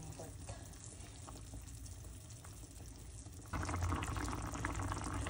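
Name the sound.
food boiling in a pot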